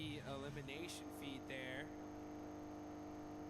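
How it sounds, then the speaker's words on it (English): A struggling vehicle engine with a suspected failing head gasket in PUBG Mobile, rising and wavering revs that sound rough and uneven, then settling into a steadier hum, heard under continuous talk. "That's not a good engine noise."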